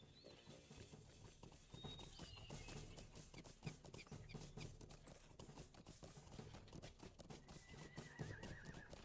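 Horse galloping and whinnying in the online game Lord of the Rings Online, with steady hoofbeats running throughout and a neigh breaking through over a thick layer of game ambience and music.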